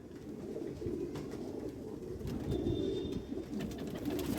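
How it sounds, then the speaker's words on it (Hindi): A high-quality Jamnia pigeon, a deep-coloured Kalsara bird, coos in a low continuous murmur nearby, with faint higher chirps now and then and no voices. "एक हाई क्वालिटी जामनिया कबूतर, जामनिया गहरा कबूतर कलसरा।"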